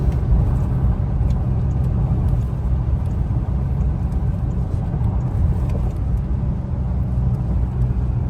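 A car overtakes on the left along an open highway at around 100 km/h, giving a loud, continuous road and engine rumble throughout with no break.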